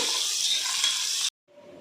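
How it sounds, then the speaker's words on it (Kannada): Onions frying in a pan with whole spices including star anise, bay leaves and fennel seeds, a loud steady sizzle that runs on, then cuts out abruptly before a fainter hiss returns. "ಇದನ್ನು ಕೆಂಪಗಾಗೋವರೆಗೂ ಚೆನ್ನಾಗಿ ಹುರ್ಕೋಬೇಕು"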